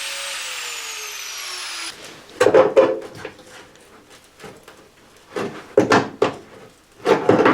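A power tool cuts into the scarred metal of a Talbot camper bonnet's internal structure, heard as a falling whine at first and then bursts of harsh, close grinding and rattling separated by brief pauses.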